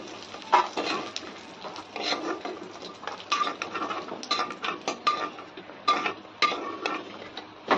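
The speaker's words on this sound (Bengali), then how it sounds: "এটা কাজু কিশমিশটা এটা একটু ভেজে তুলে নেবো।" Cashews and raisins frying in a pan, with a busy patter of clinks and scraping from a spoon against metal over a soft sizzle, close and steady with no talk.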